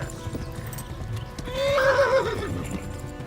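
A horse in the medieval game Kingdom Come: Deliverance gallops with a steady clip-clop, then gives a loud, rising whinny midway that trails off as the hooves keep pounding.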